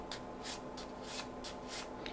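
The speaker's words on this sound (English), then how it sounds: "shuffle off the cards as normal" Playing cards riffling in an overhand shuffle, a quick series of soft papery bursts in an irregular rhythm, close and quiet with no talking.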